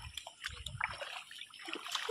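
Water splashing and trickling close by as a young boy plays outdoors in the soil, a few soft, quick splashes and dribbles at low level with no talking.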